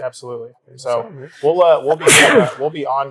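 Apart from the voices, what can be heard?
sneeze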